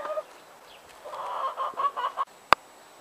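A hen in a home garden clucks in a short run of soft, close calls, followed by a single sharp click.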